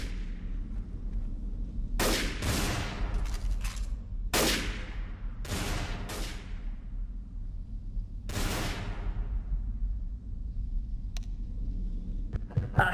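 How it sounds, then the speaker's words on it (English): Gunfire in Trouble in Terrorist Town, a Garry's Mod game mode: a handful of sharp, loud shots and short bursts ring out a second or two apart, each trailing off in a reverberant tail over a low background hum. "You're not allowed to just fire at the roof."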